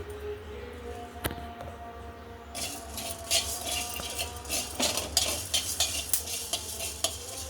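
Coriander seeds dry-roasting in a pan for a cashew chicken masala curry, with a soft steady crackle and repeated scraping stirs of a spoon against the metal, growing busier and louder partway through, with no talk.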